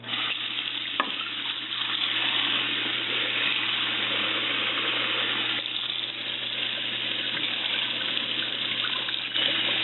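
Water runs steadily into a sink while dishes are washed up with dish soap, a continuous close hiss and splash with occasional clinks and no talking.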